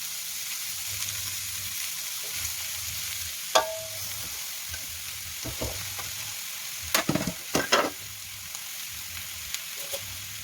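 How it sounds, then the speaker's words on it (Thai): Aromatics stir-fried in a wok for glass noodles with shrimp, a steady sizzling hiss broken by a few sharp scrapes and clanks of a spatula, close up and without any voices. "เราก็ผัดจนทุกอย่างของเราหอมแล้วนะคะ"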